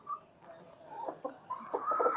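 Black Australorp hens and desi chickens give soft, scattered clucks and murmurs, growing busier toward the end, fairly close in a quiet yard.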